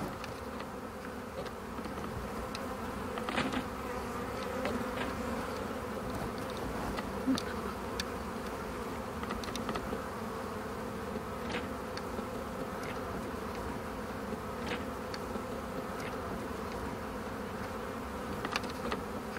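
Many bees buzz around a beehive, a continuous droning hum with individual insects passing close now and then, steady and moderately loud.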